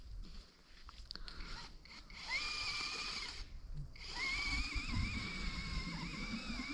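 A cordless screwdriver drives an ice auger through river ice to bore a fishing hole in March, its motor whining in two sustained bursts with a rising, straining pitch and a brief pause between them.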